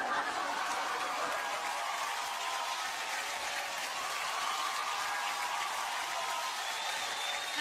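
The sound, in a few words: audience applause at awards show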